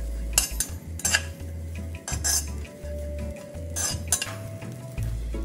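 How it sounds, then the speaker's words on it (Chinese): Fish roe stir-fried dry in a hot wok, with repeated scraping and clinking of a metal utensil against the pan over a low, steady rumble and no talk. "沥干后加入热锅内炒干。"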